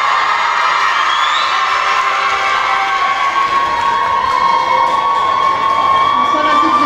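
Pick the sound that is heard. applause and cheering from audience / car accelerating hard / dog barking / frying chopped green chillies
applause and cheering from audience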